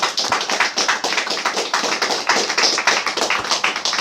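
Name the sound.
congregation clapping hands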